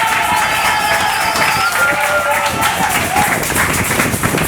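Church congregation cheering and applauding loudly throughout, a dense steady crowd roar with clapping and voices mixed together.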